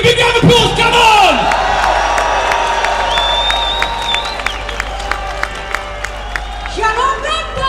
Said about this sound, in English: give a big round of applause, come on!